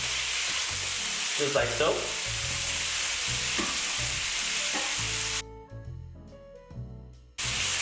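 Onions, parsley and garlic hit a hot pan and sizzle loudly and continuously, with a few clinks and a voice talking briefly. The sizzle drops away near the end, leaving softer pan noise.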